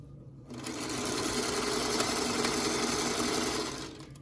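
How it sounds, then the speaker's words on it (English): A sewing machine stitches a fabric strip for a quilt block, its fast steady motor whir and needle chatter running continuously for a few seconds, starting and stopping cleanly with no voices. "I'm gonna sew this together into a strip now"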